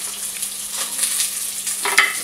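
Short rib pieces browning in a hot pan, a continuous loud sizzle with a few crackling bursts, heard up close without talk.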